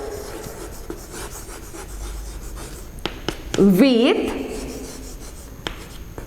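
A heading being written on a classroom board during an eighth-grade science lesson: a steady, close scratchy rubbing under a teacher's talking voice.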